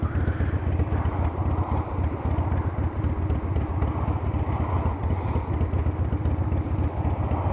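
A 1997 Harley-Davidson Springer Softail with a carbureted engine runs steadily and close up, its low rumbling throb continuing without a break for the whole stretch, with some wind noise over the top.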